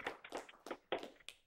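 Scattered claps from a small studio audience at a sketch-comedy talk show, a brief sparse patter of a few hands, fairly faint and uneven rather than full applause.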